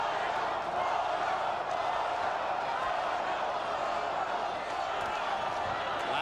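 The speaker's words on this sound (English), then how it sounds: "Latin American segment of the crowd chanting Goyo, Goyo, Goyo" An arena crowd at the Floyd Mayweather vs Gregorio Vargas boxing match, with a Latin American section chanting for Vargas, a broad, steady roar of many voices sustained throughout with a commentator talking over it.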